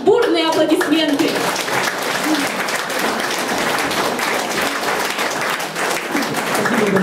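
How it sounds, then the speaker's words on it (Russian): An audience at a city amateur festival concert breaks into loud, sustained applause, with dense clapping filling the whole stretch and a voice heard briefly at the start. "Давайте подарим им бурные аплодисменты."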